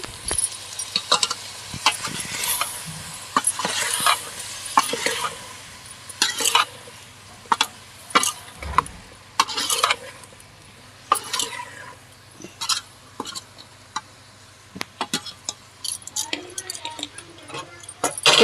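Food is stirred in a cooking pot in a home kitchen during Makara Sankranti festival cooking, with sharp metallic scrapes and clinks coming in irregular bursts over a quiet background and a faint low hum.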